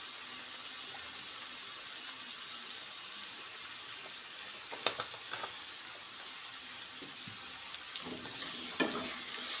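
Spices frying in a pan for chicken curry, Kashmiri chilli powder and turmeric, being stirred: a steady close sizzle with occasional scrapes and knocks of the spoon, no talking.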